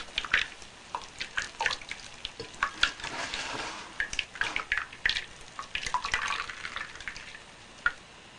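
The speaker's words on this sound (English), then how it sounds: "Go ahead and strain it through your finely stainless steel mesh." Wheat milk straining through a fine stainless steel mesh gives soft, irregular liquid trickling and splashing with small drips and gentle stirring noises, close and fairly quiet, with no voices.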